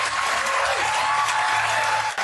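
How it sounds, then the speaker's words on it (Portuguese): An audience applauding, a dense, steady burst of clapping that fills the whole short moment. "Olha todos esses idiotas aplaudindo."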